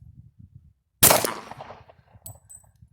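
A single sharp, loud pistol shot from a custom Glock 23 cracks at close range and rings briefly into a decaying tail, with a faint metallic clink afterward and low background murmur before and after.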